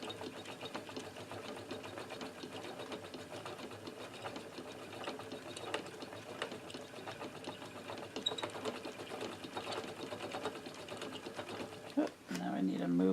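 A treadle sewing machine runs in a steady mechanical whir with faint rhythmic clicking, moderately close, and a short knock near the end.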